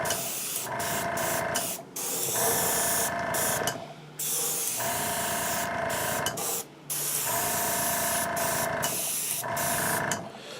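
A compressor-driven paint sprayer applies very dark gray paint to a life-size Boba Fett jetpack prop, sending out repeated loud hissing bursts of about two seconds each, separated by short pauses.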